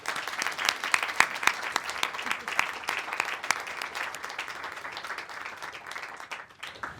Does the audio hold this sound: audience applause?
yes